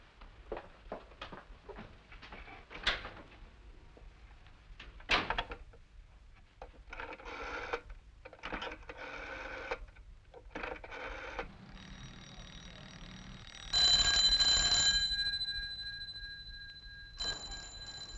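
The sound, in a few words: telephone ringing in an office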